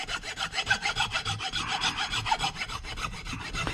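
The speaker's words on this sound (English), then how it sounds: "I usually just use like a file here. And I'm just going to kind of file, I know, the freshly painted surface here." Steady back-and-forth strokes of a hand file scraping across the freshly painted surface of an upper control arm for an IRS, rhythmic and close, roughly a dozen passes with no talking.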